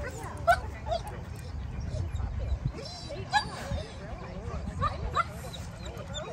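A dog whimpering and giving short, high yips during a dog-greeting training exercise. The whines keep coming in close under a person's steady talk.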